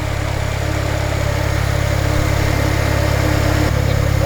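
A Nissan SR engine idles steadily and quietly nearby, a smooth, even low hum with a constant rhythm and no revving, alone without talk.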